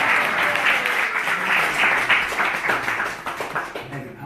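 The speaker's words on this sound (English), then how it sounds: "So you give her a little round of applause." An audience at a Sunday talk in an ISKCON temple in Newcastle gives a round of applause: lively close clapping from a modest crowd, thinning into scattered claps near the end, with voices murmuring underneath.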